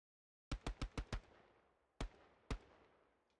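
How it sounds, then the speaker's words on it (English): Machine gun in the World War II shooter Hell Let Loose fires a quick burst of five sharp, loud rounds, then two more single shots after a pause, each with a reverberant tail. "Just pre-fire some rounds."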